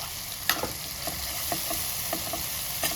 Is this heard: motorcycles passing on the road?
no